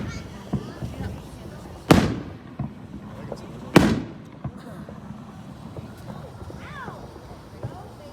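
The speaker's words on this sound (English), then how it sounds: "These are the mini rockets." Mini rocket fireworks launching outdoors, two sharp whooshing bangs about two seconds apart, loud and close, followed by quieter crackles while people chat nearby.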